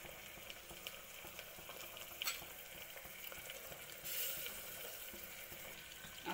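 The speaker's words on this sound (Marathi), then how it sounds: "कांदा व्यवस्थित भाजत आहे" Onion and tomato fry in hot oil with a steady, soft sizzle, plus occasional stirring scrapes and a brief louder burst of frying partway through, with no talking.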